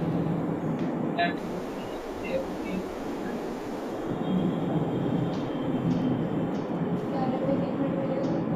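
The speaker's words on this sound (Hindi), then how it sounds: "यार ये कहाँ ट्रेन चल रही है यार?" A train running nearby rumbles steadily in the background, a continuous low roar with faint rail squeals, heard through a room and fairly loud throughout.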